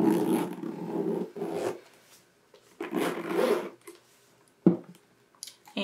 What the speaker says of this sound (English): And zipper is very nice and smooth.